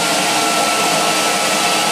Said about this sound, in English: See, that to me is what an Electrolux should sound like. Smooth, whisper quiet.